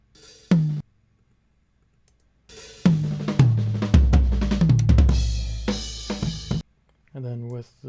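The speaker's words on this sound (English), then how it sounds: "what it sounds like without any plugins on any of the toms" Raw, unprocessed tom drums from a recorded kit roll through a busy fill of hits descending in pitch, loud and close, with a few separate strikes before and after.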